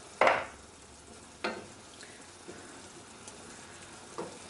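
Mushroom and butternut squash risotto being stirred in a pan, a few distinct scraping strokes spaced about a second apart over a faint sizzle, quiet and close.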